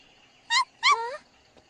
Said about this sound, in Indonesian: Kalau cuma menggonggong, aku nggak ngerti.